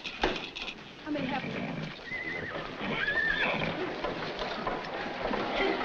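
Horses at a corral in a 1941 Western film whinny and neigh, with hooves clip-clopping underneath, while people talk over the scene at moderate distance.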